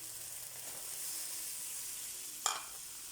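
Ground meat sizzles softly while being sautéed in a pan for ginisang ampalaya, a faint steady frying hiss with a sharp clatter of a utensil near the end.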